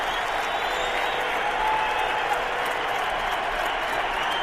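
Football stadium crowd cheering at a Browns at Patriots game, a steady broad roar of thousands with applause that holds loud and continuous throughout.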